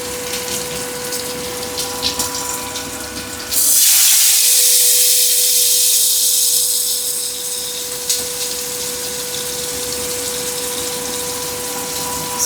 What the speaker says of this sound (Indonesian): Aku cuma mau goreng tempenya 2 potong.